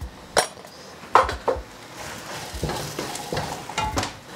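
Spices are stirred in a cooking pot, with a spoon scraping and clinking against the metal in uneven strokes over a soft sizzle.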